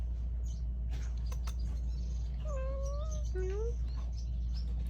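A house cat gives two short, rising meows close by over a low steady hum, with faint handling clicks and rustles around them.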